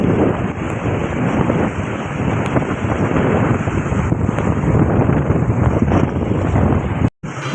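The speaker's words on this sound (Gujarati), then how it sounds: "ફૂલ એટલે ફૂલ પાણીનો બહાવ છે." Strong floodwater rushes past in the Ghed area as a loud, continuous broadband roar, heavily buffeted by wind on the microphone, then briefly cuts out near the end.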